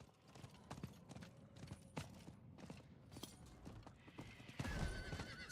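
Horse in the video game Diablo IV, repeated clip-clop hoofbeats in an uneven walking rhythm, with a louder neigh toward the end, all fairly quiet.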